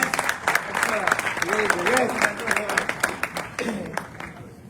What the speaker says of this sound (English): A loud applause, please.